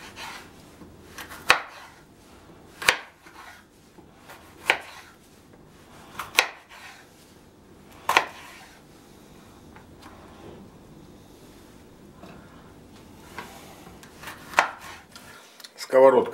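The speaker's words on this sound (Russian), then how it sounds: "нарезаем его соломкой" A knife chops vegetables into thin julienne strips on a cutting board, with sharp separate strikes spaced a second or two apart, close and clear in a quiet kitchen.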